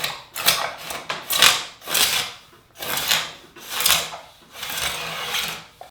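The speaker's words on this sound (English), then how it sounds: "I'm going to scrape off the majority of the glue using a cabinet scraper" Cabinet scraper pulling across wooden bookcase boards to remove dried glue and epoxy, a series of rasping scrapes in uneven strokes, close and fairly loud, with short pauses between passes.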